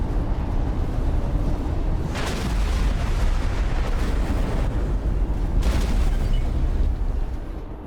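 A spaceship blows up in the space game X4 Foundations, heard as a sustained, loud roaring blast with rumbling bursts rolling on for several seconds, no talk over it.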